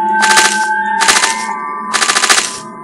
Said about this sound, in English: I keep accidentally shooting the greens when I'm aiming for the red and the white